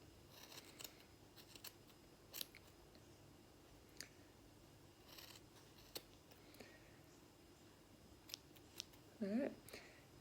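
Scissors snip through a wool tassel while the strands are pulled taut: scattered quiet clicks and cuts spread out, ending in a louder quick cluster of snips.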